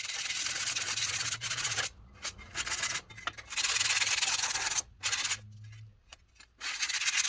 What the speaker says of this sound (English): I've got a piece of 80 grit on a block here, and I'm just going to sand across the surface